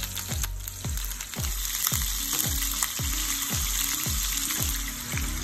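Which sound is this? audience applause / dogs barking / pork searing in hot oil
pork searing in hot oil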